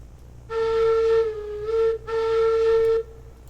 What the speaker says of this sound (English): I need to remember to like gently pull the whistle the first time so that it doesn't do that horrible sound.